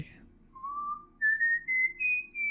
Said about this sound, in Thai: เสียงผิวปากดังขึ้นอีกครั้ง